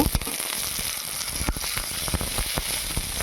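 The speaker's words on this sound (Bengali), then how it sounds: "পটলটা ভালো করে ভেজে নিচ্ছি" Pieces of pointed gourd fry in hot oil in a pan, a dense, continuous sizzle with sharp little pops and crackles spread throughout, close and fairly loud, with no voices.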